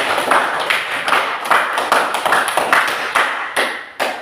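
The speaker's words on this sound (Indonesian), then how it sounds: "tepuk tangan beri semangat" A group of people claps together in encouragement, a dense burst of many hands with sharp accents and a few stronger hits, sustained and fairly loud for several seconds.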